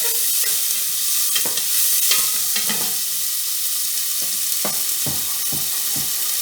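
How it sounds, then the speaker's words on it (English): Steady hissing sizzle of onions frying in hot oil, broken by occasional soft scraping and stirring clatters, close and continuous. "let's just stick some onions in there because that oil is getting a bit hot"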